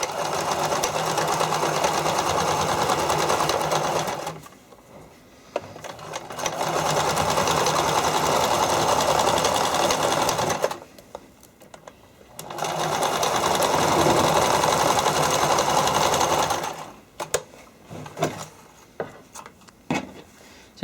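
A sewing machine zigzag-stitching fabric soakers for figure skating, running in three long steady whirring bursts separated by short pauses, followed by a few brief stops and starts, close and loud.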